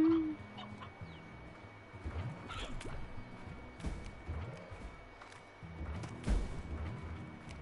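Chickens cluck and chatter in a farm area of the video game Slime Rancher, soft scattered fowl calls over a steady ambient game background with faint water-like drips.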